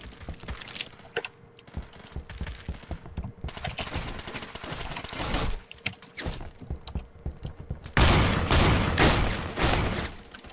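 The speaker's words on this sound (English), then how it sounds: "I just fired like 5 shotgun rounds at him" Shotgun blasts and other gunfire in the Roblox shooter Phantom Forces come in rapid, loud bursts with short gaps, then a denser volley near the end.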